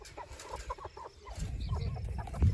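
Backyard homestead chickens cluck in a low, irregular murmur, close by, with soft rustling and thumps growing louder toward the end and no talking.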